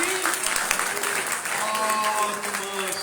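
A church congregation claps together at a Sunday meeting, steady clapping running the whole time underneath a voice that keeps talking.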